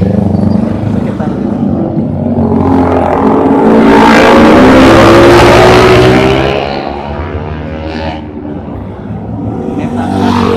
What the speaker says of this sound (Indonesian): Itu adalah kendaraan yang dari arah Soreang